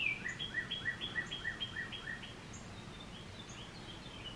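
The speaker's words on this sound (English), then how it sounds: "sitting out here on the front porch, listening to the birds chirp, drinking coffee" Birds chirp outside near a front porch, a quick series of repeated bright chirps at moderate distance that fades after a couple of seconds into a faint outdoor background hum, with no talking.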